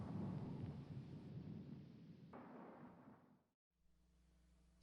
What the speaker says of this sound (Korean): 그 순간 번개가 치고 천둥과 지진이 일어나며 큰 우박이 쏟아졌습니다.